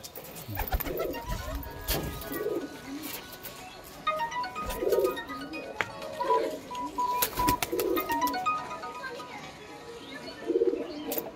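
Domestic high-flying pigeons at a Mayapur loft coo in soft repeated bursts every couple of seconds, close by, with faint chirps and light background noise.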